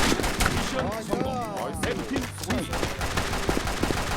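Gunfire rings out in a competitive online shooter game as quick bursts of shots mix with chirping in-game effects, all under loud, excited talking.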